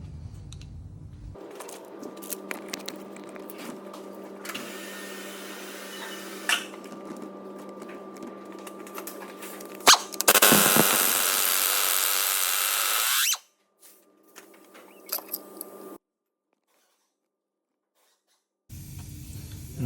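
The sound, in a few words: impact driver removing crank pulley bolt on Ford 2.0 TDCI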